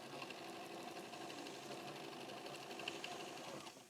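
A sewing machine whirs at a steady, even pace while stitching a quilt seam with a quarter-inch seam allowance. The fairly soft, continuous mechanical hum runs alone without a break.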